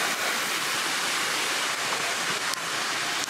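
Steady broadband rush of flowing water near Lost Canyon Cave, a continuous close waterfall-like roar with no break, loud and alone.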